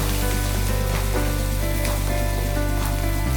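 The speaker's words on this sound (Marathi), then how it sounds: "धने पावडर टाकते, छान असं हलवून घेते।" Coriander powder is stirred in a hot pan while a loud, dense sizzle fills the whole moment. A low steady hum sits underneath.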